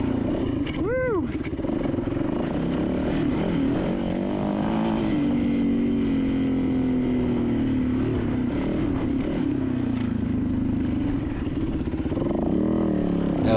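A 450 dirt bike riding and climbing off-road in open hill country, its engine droning and revving steadily with rising and falling pitch as it climbs, loud and close throughout.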